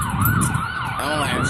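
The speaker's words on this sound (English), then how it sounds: "Ambulance coming." An ambulance siren wails up and down loudly and close by, cycling rapidly as the emergency vehicle arrives at a street call alongside a fire engine, with traffic rumble underneath.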